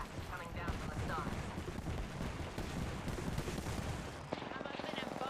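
Rapid gunfire crackles in the Atomic Heart shooter game as dense, fairly faint bursts of shots run continuously under busy combat noise.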